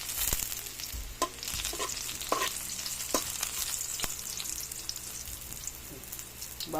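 Onion and garlic sizzle in hot oil for ginataang laing, a steady broadband frying hiss with intermittent scraping stirs and utensil knocks, close and fairly loud, no talking.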